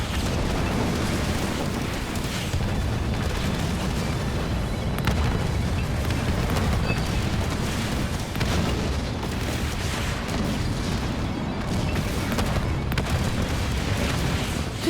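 MAC blast explosions pound a tank-heavy battle in Halo Wars 2, with a steady, loud wall of booming detonations and crackling debris rolling on without pause.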